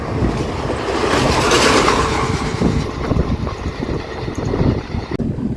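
An express train rolls into Karur Junction railway station, a loud, steady rumble of wheels and carriages with faint rhythmic clatter, close and continuous throughout.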